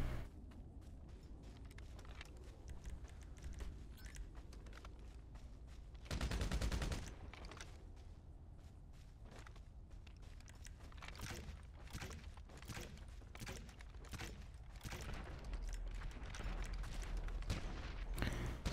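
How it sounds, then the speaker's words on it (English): Gunfire crackles in a shooter video game, rapid bursts and scattered shots at moderate distance over a low steady rumble, with one louder blast partway through. "he's literally hiding, shooting at me"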